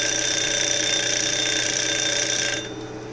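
An electronic timer counting the duration of a lab experiment gives a steady, loud high-pitched alarm-like tone over a humming background, sounding continuously before cutting off abruptly near the end.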